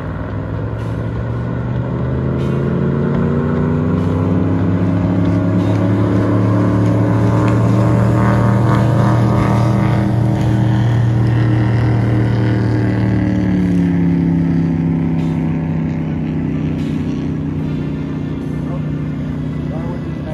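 A Chris Craft boat engine runs loudly and steadily at close range, its deep drone swelling slightly through the middle and then settling, with a voice briefly heard over it.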